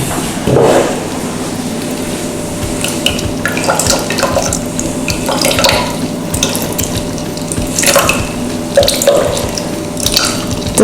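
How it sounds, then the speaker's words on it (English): A blood orange is squeezed by hand into a cocktail shaker, making close, wet squelches and dripping juice in irregular bursts. "So we're going to take all the juice out of this one,"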